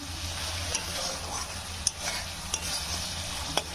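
Spice masala fries hard on a high gas flame, a close, steady sizzle punctuated by sharp spatula clicks against the pan every second or so, with no speech.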